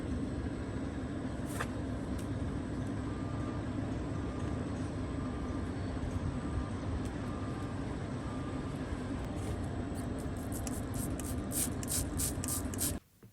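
Steady spray of water played over a cow's hoof during trimming to keep the area clear, a continuous hiss lasting throughout with a few brief higher squirts near the end before it cuts off.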